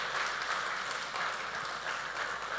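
Steady broadband applause from an audience at a public event, a continuous dense patter of many hands clapping at even loudness throughout, heard at a moderate distance with no voices over it.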